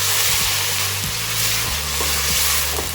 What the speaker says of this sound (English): Let it saute for a while.